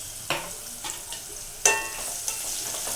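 Egg biryani mixture seasoned with salt and turmeric is stirred in a pan, giving a few scraping, clinking strokes over a soft continuous sizzle, close and fairly loud, with no talking.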